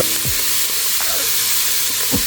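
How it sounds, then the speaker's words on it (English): Lamb shank sears in a pressure cooker, a loud, continuous sizzle up close with a few short scraping and shifting sounds as the meat is moved. "we've been searing for about 3 minutes now. Beautiful sear."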